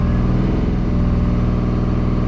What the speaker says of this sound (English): So that's free revving for those of you that want to know what this is doing